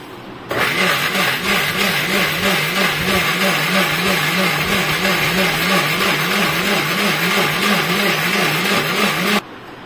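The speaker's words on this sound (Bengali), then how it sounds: "এবার আমি ঢাকনা লাগিয়ে মিক্সিতে এটাকে ভালো করে পেস্ট করব" An electric mixer grinder purees mango pulp for aamras, made without sugar. A loud, steady, pulsing motor whir starts abruptly, runs unbroken for about nine seconds, then cuts off.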